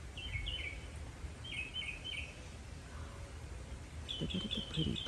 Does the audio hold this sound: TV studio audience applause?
no